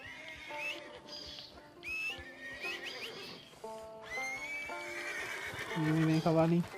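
A horse whinnies and neighs repeatedly in Red Dead Redemption 2 online beta gameplay, with clip-clop hooves, whistling and game music beneath the loud, close calls.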